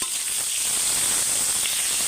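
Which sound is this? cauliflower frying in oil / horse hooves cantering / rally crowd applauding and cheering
cauliflower frying in oil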